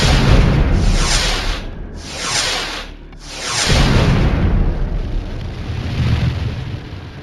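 Spaceship weapons fire in the space combat game Star Traders Frontiers, heard as a few long, loud, rushing blasts that swell and fade one after another, with no talk over them.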